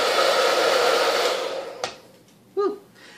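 Hair dryer blowing a strong stream of air that holds a ping pong ball suspended, a loud steady whoosh that cuts off abruptly, followed by a brief faint squeak.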